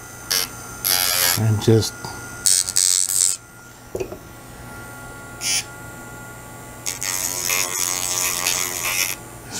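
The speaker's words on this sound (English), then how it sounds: "I take the Dremel on some low speed" A Dremel rotary tool on low speed cleaning up a plastic part from an Eaglemoss Eleanor model kit, giving short bursts of high-pitched whirring that start and stop, close up, with brief talk between them.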